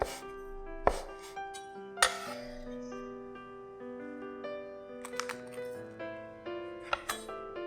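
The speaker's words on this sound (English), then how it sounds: "cut up the tangerine peels into fine slices" Knife slicing soaked tangerine peels on a cutting board, a few sharp clicking chops spaced out over a background of sustained musical tones.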